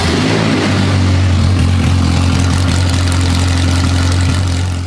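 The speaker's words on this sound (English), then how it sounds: "the Ferrari starts up and runs the first time. The thing is, it is so loud with no exhaust." A crash-repaired Ferrari F430 runs with no exhaust fitted, a loud, raw, steady engine drone close by with a harsh rasping edge throughout.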